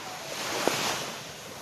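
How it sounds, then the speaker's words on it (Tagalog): Ocean surf washing steadily with a windy rush at a Zambales beach, a continuous wash of waves close by and one small knock in the middle. "yung lagaslas ng tubig, yung alon"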